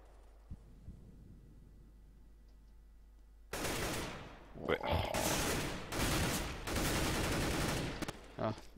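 A rapid burst of gunfire erupts in a Counter-Strike match on de_nuke in the ESL Summer Relegation after a quiet start, several loud clustered shots following one another, with German-speaking commentators talking.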